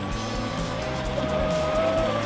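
A small Volantex V792-4 Atomic RC boat motor whines steadily at a high pitch, shifting slightly in tone, over a rough background of choppy water and outdoor noise.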